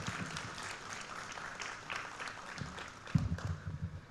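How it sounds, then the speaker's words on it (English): Fairly faint clapping from an audience fills the room steadily, with a few louder claps and rustles toward the end. "So please give a huge round of applause for them too."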